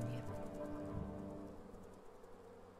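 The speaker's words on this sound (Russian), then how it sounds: "ты теперь медовая пчела" A honey bee's wings buzz in the video game Bee Simulator as a low, steady, faint drone that fades slightly toward the end.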